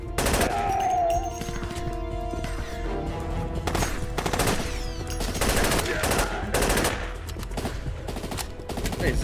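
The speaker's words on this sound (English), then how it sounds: "Hey, is this a burst gun?" Gunfire in the video game Armed Forces Corp: repeated sharp, loud shots in short clusters with brief gaps between them, over a steady background hum.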